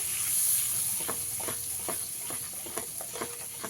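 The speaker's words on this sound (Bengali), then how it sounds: "টমেটোর পেস্টটা এখানে খুব ভালো করে ভেজে নিতে হবে" Tomato paste fries in a pan for a pabda fish curry with mustard paste, giving a constant bright hiss and sizzle marked by soft, rhythmic stirring strokes.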